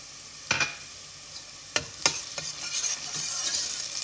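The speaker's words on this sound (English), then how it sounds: "I'm just gonna fry my onions." Chopped onions with a tablespoon of ginger garlic paste fry in a pan for a chickpea and meat curry, a soft steady sizzle broken by several close scraping stirs of a spoon, no voices.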